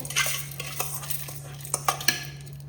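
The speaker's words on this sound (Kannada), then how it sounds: "ತಣ್ಣಗಾದ ನಂತರ ಒಂದು ಮಿಕ್ಸಿ ಜಾರಿಗೆ ಹಾಕ್ತಾ ಇದ್ದೇನೆ" Cooled roasted spices and sesame seeds for sambar are scooped into a mixer jar, with a scattered series of close metal spoon scrapes and clinks over a steady low hum.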